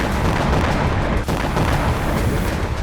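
Heavy rumbling blasts from a Hezbollah rocket strike in Lebanon roll together into a continuous, loud, dense roar with one brief dip, with no voices.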